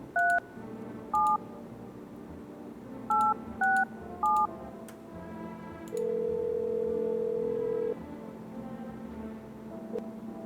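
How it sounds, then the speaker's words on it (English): In a video game, a telephone number is dialed with a series of short electronic keypad tones in irregular groups, followed by a longer steady tone, heard clearly with no talking. "I'm gonna call the neighbor."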